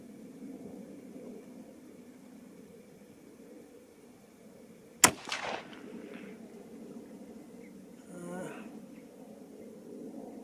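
A single rifle shot from a Seekins Precision Havak HIT cracks sharply at the midpoint over a quiet outdoor hum, followed by a short echo and faint handling noises.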